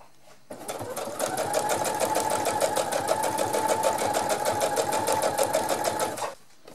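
A sewing machine stitches fabric steadily around the curve of a collar for an anti-drool shoulder protector, a fast continuous whir running for about six seconds before stopping.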